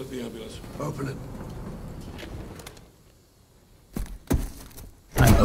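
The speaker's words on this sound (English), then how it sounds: "I'm opening the ambulance." An ambulance door is forced open in the Call of Duty: Modern Warfare III mission Flashpoint, with several loud, close metallic thunks and clatters after a stretch of tense in-game talk.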